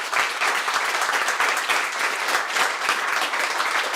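Indoor crowd at a Welsh Conservatives election campaign launch applauding the campaign team, a dense, steady wash of clapping from many hands lasting throughout, even in level with no speech over it.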